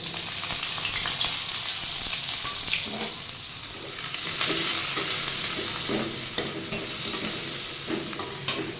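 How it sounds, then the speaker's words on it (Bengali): Onion and green chilli frying in hot oil, a continuous close sizzle broken by repeated scraping and stirring clatters against the pan. "তেল গরম করে নিয়েছি এরপরে পেঁয়াজ কাঁচা লঙ্কাটা এটা দিয়ে দিচ্ছি"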